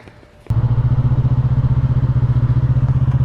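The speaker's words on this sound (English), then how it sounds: "we're out here on the Yamaha MT-03" A 2020 Yamaha MT-03 motorcycle engine starts abruptly and runs loud and close with a steady, throbbing low rumble and rhythmic pulsing, after a brief quieter moment.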